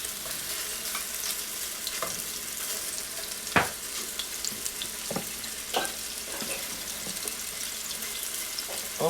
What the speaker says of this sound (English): we got meatballs sizzling in the pan